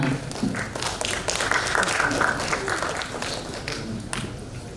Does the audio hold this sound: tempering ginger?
no